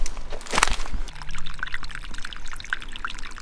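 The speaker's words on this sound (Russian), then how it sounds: "То есть тут такая довольно-таки приличная струйка-то стекает" A small trickle of fresh water runs down a muddy seashore and splashes steadily at close range, with a few louder spatters near the start.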